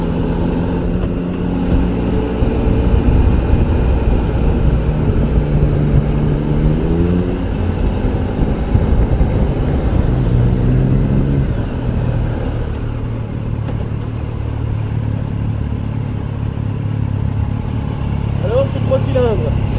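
A Triumph Tiger Explorer 1200 motorcycle heard while riding, with the engine droning loudly and its pitch rising and falling through gear changes, under someone talking most of the time.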